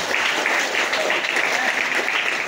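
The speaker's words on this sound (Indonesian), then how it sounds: "tepuk tangan untuk kita semuanya" Applause from parents at a parenting seminar held at an Islamic boarding school in Serang, a dense, even roar of many hands clapping that fills the whole clip, fairly close and loud.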